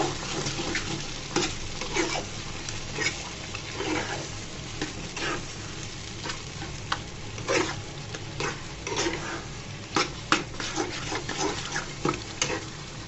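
Taro leaves are stirred and cooked in a pan, with a constant soft sizzle broken by repeated scraping and clinking strokes of a spoon against the metal and no speech.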